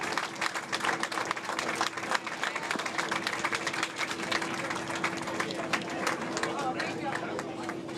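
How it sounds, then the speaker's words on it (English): Crowd at a bowling alley tour-stop final applauding both teams, sustained scattered clapping over steady crowd chatter and a constant background hum. "I want to everybody give a round of applause to both teams,"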